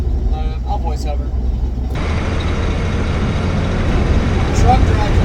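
A DIY long-travel truck rolling down a bumpy, curvy road, its engine and tire rumble steady and close with wind noise swelling as it goes; a voice talks briefly over the start.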